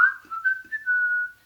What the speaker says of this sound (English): Dad's whistling